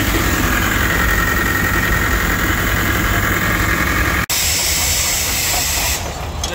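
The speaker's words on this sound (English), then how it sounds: "That's about the best sound in the world right there when you got a steam engine under a load." An old steam engine labors under load running a baler, a loud, continuous roar of hissing steam and mechanical drive close by, with a brief dropout partway through and a slight easing near the end.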